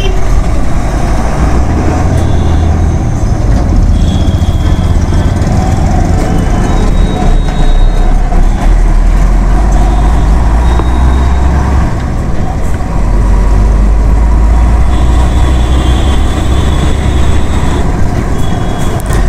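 Heavy traffic of trucks and buses on the Mahatma Gandhi Setu over the Ganga near Patna, a loud, dense rumble of engines and tyres with passing vehicles and intermittent horn tones.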